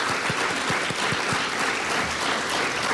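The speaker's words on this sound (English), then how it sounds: "round of applause to all of you folks" A live-stream gathering audience gives a round of applause, dense steady clapping filling the whole moment at even loudness with a few stronger hand claps standing out early on.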